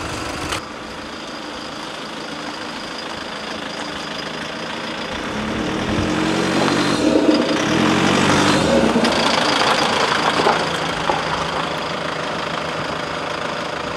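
An ageing car engine idles with a loud, rough knocking clatter, steady throughout and swelling somewhat louder midway, heard close up with no talking.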